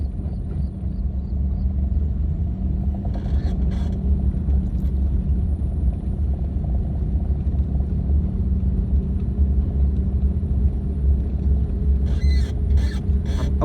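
Steady low rumble of a car engine and road noise from inside the cabin during a beginner driving lesson, continuous and even throughout, with a few faint clicks and rattles near the end.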